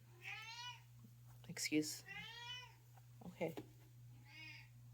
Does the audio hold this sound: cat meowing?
yes